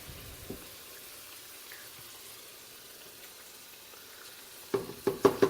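Ingredients for a crab steam pot dinner being stirred in a pot over a steady low sizzle, ending with a quick run of sharp utensil clinks and scrapes against the pot.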